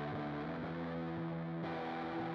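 Overdrive distortion at moderate gain on a ZOIA modular effects patch, fed by a delay, gives a steady sustained harmonic-rich tone with repeated note attacks and no voices.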